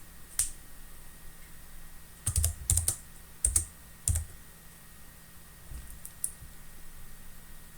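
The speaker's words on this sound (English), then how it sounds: "start typing the name of the file of a folder, 1, 2, or 3 letters, and then press the top button on your keyboard" Keys clack on a computer keyboard as a file name is typed, in short clustered bursts of sharp clicks with pauses between them, close and fairly quiet over a faint hum.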